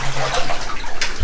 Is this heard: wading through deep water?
yes